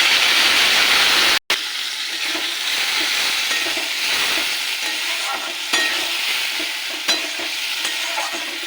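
Spice paste of ginger, tomato and green chilli frying and being stirred in a pan with taro and potato, a loud continuous sizzle with a brief cut, then softer crackling and occasional scraping stirs.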